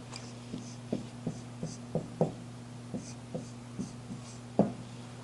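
Marker or chalk strokes writing out a linear algebra equation on a board, a dozen or so short taps and scratches in an irregular rhythm over a low steady hum, with no voice.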